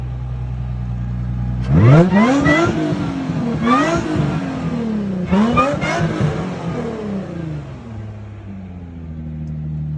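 Supercharged Nissan 350Z with a new aftermarket exhaust, starting at idle then blipped three times in sharp rising revs, the supercharger whine riding over the exhaust note before settling back to a steady idle, close and moderately loud.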